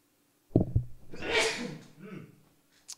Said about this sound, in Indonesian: saya mau bersin